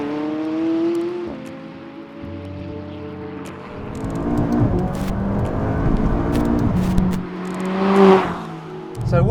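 A 2019 McLaren 570S sports car drives and accelerates, its engine note climbing in pitch through several rising sweeps and shifting between gears, heard from inside with some talk over it.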